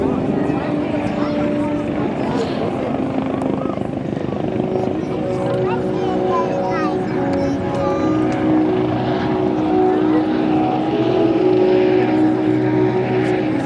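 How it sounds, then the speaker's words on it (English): A US Coast Guard MH-65 Dolphin helicopter flies past at the 2024 First State Airshow, its steady loud rotor and engine roar continuing throughout under crowd noise and an announcer's voice. "Coming around from the left, ladies and gentlemen, the MH-65 Dolphin helicopter."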